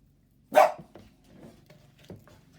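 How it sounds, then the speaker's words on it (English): A single sharp dog bark rings out nearby, followed by a few faint softer sounds in an otherwise quiet room. "There goes that crazy puppy again."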